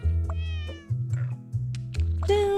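Cat meows from the puzzle game Cats Organized Neatly: a string of close, clear meows with rising and falling tones, a light cartoonish tune playing beneath them, and a sharper meow at the end.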